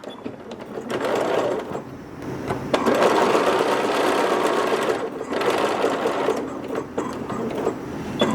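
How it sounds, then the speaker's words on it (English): A sewing machine stitches linen fabric for a pullover top at a regular stitch length, humming loud and close in continuous runs with brief slowdowns between them. "put your machine back to a regular stitch length"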